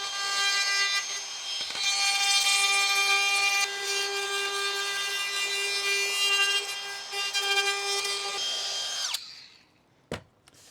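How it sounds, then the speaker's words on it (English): A power router with a 1/4-inch quarter-round bit whines loudly and steadily as it cuts through wood for several seconds, then winds down and stops, followed by a single sharp knock. "I'm also gonna use the 1/4 inch quarter round bit for the foot here"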